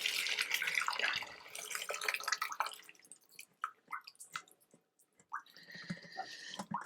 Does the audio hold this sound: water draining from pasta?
yes